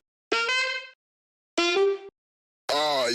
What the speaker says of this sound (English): we got the samples for the scratch part